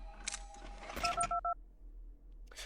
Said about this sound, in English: Didn't think you'd be able to hear the phone from there.